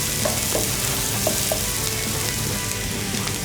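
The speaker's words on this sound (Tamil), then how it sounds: "இந்த ஆனியன் வந்து நம்ம கோல்டன் ப்ரௌனாக வதக்கணும்." Onions sautéing in a pan until golden brown, a loud, dense, steady sizzle close up with a few faint stirring taps, no speech.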